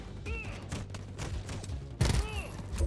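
Gunfire rattles in Pax Autocratica, a volley of rapid shots at moderate loudness with a heavier burst near the end, mixed with other game noise.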